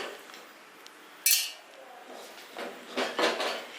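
Coconut is dropped into a steel mixer grinder jar while cooking an anchovy recipe, with a soft rustle, one bright clink and then a few clattering metallic knocks close by.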